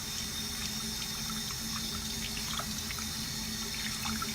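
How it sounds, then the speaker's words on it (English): Tap water runs steadily over a hand and the bristles of a makeup brush being rinsed clean, a continuous close splashing stream with faint drips and no talking. "with the water running over my hand"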